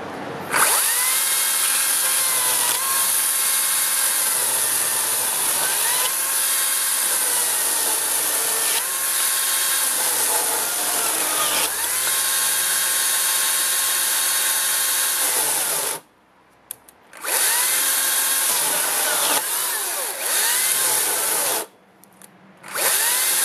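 A 36-volt Makita cordless chainsaw whines at high pitch as it bites through wood, running continuously with two brief pauses near the end.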